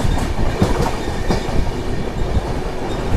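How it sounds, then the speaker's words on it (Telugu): Padmavati superfast express, an LHB train, running at speed with a loud continuous rolling roar and rapid clickety-clack of wheels over joints, heard up close from on board. "సో ఈ ట్రైన్ వచ్చేసి మనకు చర్లపల్లి ఎంబీఆర్ చెన్నై సెంటర్ వెళ్ళే సూపర్ ఫాస్ట్ ఎక్స్ప్రెస్ ట్రైన్"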